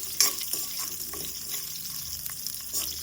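Whole green chillies, cut lengthwise, fry in a little oil for a sweet pumpkin palya, giving a soft, steady sizzle with scattered pops and light stirring clatter.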